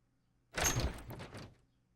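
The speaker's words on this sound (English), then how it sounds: "I swung open the door of the camp leader's cabin and rushed inside" A door swings open in the visual novel game Everlasting Summer: one short, close creak-and-swoosh lasting about a second, fading quickly into quiet.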